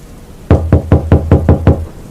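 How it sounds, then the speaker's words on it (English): Seven firm knocks on a kennel door, evenly spaced and close, after a short quiet start. "Approaching the green kennel, Chase took a breath and knocked on the door."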